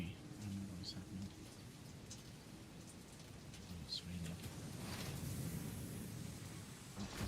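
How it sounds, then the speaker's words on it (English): Rain falls in the video game Satisfactory, a faint, steady patter with occasional bird chirps above a low rumble, quiet throughout. "It's raining, or am I just sweating,"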